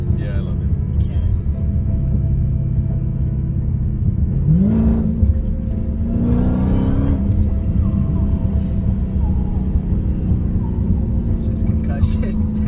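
A Toyota MR2 with a Hellcat engine roars loudly from inside the cabin, a heavy rumbling drone with rising revs in the middle, while people talk over it.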